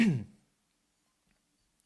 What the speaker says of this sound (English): I have to do something about that cough.